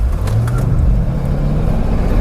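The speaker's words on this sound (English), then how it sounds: "let's just launch the E55 AMG one more time, this time with a longer road" A 1999 Mercedes-Benz E55 AMG W210 sedan launches hard, its engine a loud, steady low roar that holds without a break and stays close throughout.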